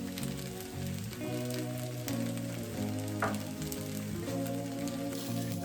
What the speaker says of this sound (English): Stir or mix very well until your rice is no longer soggy.